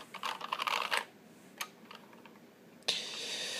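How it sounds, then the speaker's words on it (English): Typing on an IBM Model M keyboard, a burst of rapid clacky keystrokes, then isolated louder key hits and a final sharp clack, close and without talk. "My Model M."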